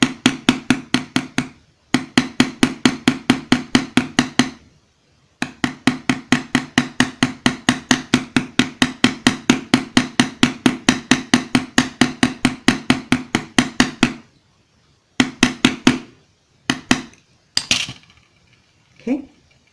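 Rapid, evenly spaced hammer taps ring out in long runs as a ball end rivet is flared on an earring, with short pauses between bursts and a few slower strikes near the end.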